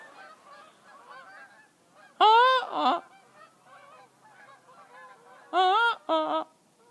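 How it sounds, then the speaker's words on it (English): Several geese flying overhead honk in two loud bursts of repeated calls, separated by quieter distant honking in the background. "The geese are going overhead right now"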